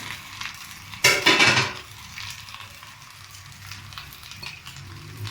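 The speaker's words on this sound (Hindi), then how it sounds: "अब इस टाइम पर हमने चिकन को शामिल कर देना है।" Chicken dropped into a pan of fried rice and oil sizzles loudly for about a second, then settles into a steady low frying hiss with faint stirring and utensil clinks, close by.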